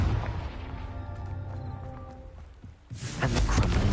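A Confringo blasting spell bursts in Hogwarts Legacy, a loud broadband blast that erupts near the end and rolls on over the game's tonal background music.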